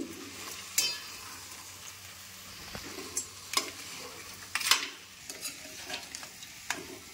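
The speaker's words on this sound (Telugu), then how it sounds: "మసాలా మొత్తం పట్టేంతలాగా కలుపుకోవాలి" Washed crabs stirred into masala in a pan for crab curry, with a soft sizzle and intermittent scraping and clinking of a spoon against the pan, irregular and close.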